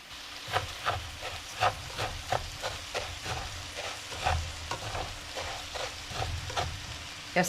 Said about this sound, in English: we're just going to toast that a little bit